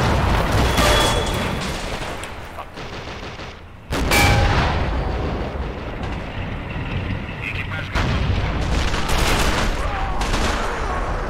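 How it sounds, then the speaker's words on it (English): Heavy, booming mortar and artillery fire in a battlefield video game, repeated deep impacts and blasts layered over constant rumbling combat noise, with someone talking briefly. "that's a fucking really accurate mortar"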